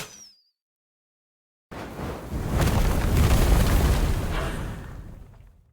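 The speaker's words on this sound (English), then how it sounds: "Set fire to their path." A blaze is set alight along the enemy's path in the Lost Eidolons strategy game: a brief tone, then silence, then a sudden loud, roaring rush of fire that swells and holds for several seconds before easing off.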